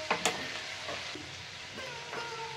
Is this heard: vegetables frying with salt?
yes